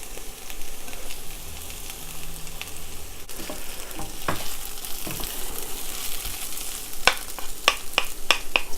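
Eggplant sizzles and fries in a hot wok with chilies for a Szechuan dish, a steady close crackle broken by sharp scraping stirs and clacks that grow more frequent toward the end.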